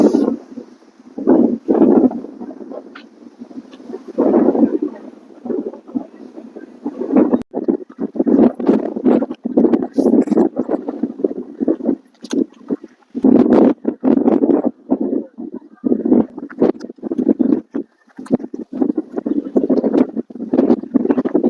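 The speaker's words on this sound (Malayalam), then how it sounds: "ഭയങ്കര കാറ്റ്." Strong wind at Gudibande Fort, a hilltop fort in Karnataka, buffets the microphone in loud irregular gusts and rumbling blasts that come and go across the whole stretch.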